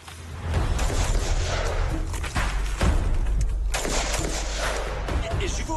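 Rapid bursts of gunfire crack loudly during French Foreign Legion 2nd REP training, over a dense, noisy background, with heavy thumps and continuous rumble throughout.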